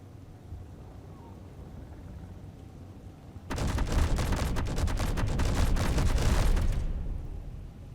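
Suppressing gunfire in a video game: after a few quiet seconds, a loud sustained burst of rapid automatic shots rolls on for about three seconds, then fades away.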